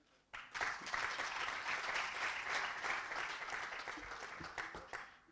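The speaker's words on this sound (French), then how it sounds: "J'aimerais, avec votre permission, qu'on puisse applaudir mes équipes." Audience at the ASCOM 2022 awards ceremony applauds an award winner's teams, a sudden full burst of crowd clapping that holds steady for about five seconds, dense and evenly sustained in a large room.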